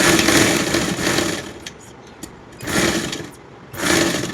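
A sewing machine stitching a small child's coat runs in three bursts separated by short pauses, a close, loud rapid whirring with faint handling clicks in the gaps.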